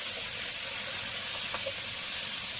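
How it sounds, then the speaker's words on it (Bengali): Small fish frying in hot oil in a pan, a constant dense hiss of bubbling oil, close and fairly loud, with no voices. "তেলটা গরম হয়ে গেছে, মাছগুলো ছেড়ে দেবো।"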